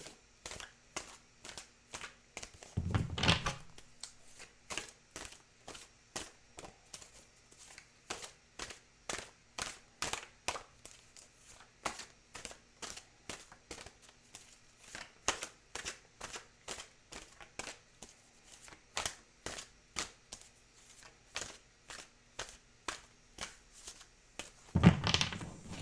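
Tarot cards are shuffled over and over in a quiet room, a rapid, regular riffle of soft papery flicks in repeated bursts, with a couple of louder thumps at the start and end.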